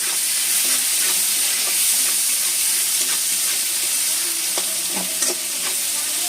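Grated ginger sizzles in hot oil in a pan while a utensil stirs it, giving a steady close hiss broken by scraping clicks, with no talking.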